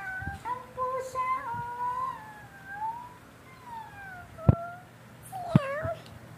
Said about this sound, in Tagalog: Yun, may pusa.